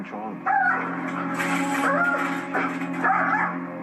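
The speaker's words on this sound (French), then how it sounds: "Quand Troy voit un autre chien, il devient comme fou" A dog barks and yips frantically at another dog, loud and close, with excited whimpering yelps running continuously through the whole stretch.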